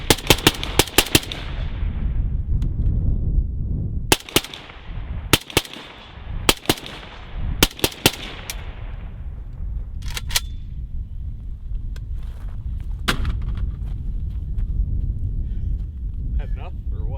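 Rifle fire through an ODS-1775 suppressor during testing: rapid bursts of sharp, loud suppressed shots in clusters with gaps between, a final isolated shot later, under an outdoor rumble with voices talking.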